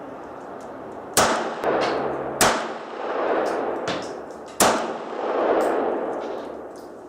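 Three sharp Makarov pistol shots fired at a target, each a loud, abrupt crack with a ringing decay, spaced unevenly over several seconds with no talking.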